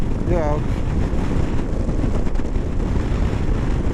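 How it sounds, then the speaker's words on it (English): Strong gusty crosswind on a hilltop buffets the microphone during a ride on a BMW V85TT motorcycle, a loud continuous low rumble under the engine, with a brief voice near the start. "Oh, there's quite a crosswind now."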